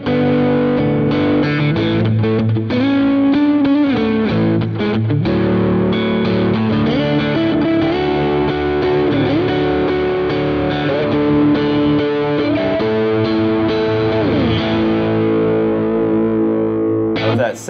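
Distorted electric guitar fitted with Lambertones Ristretto P90 pickups playing a continuous riff of chords and single notes through effects, loud and alone for the whole stretch.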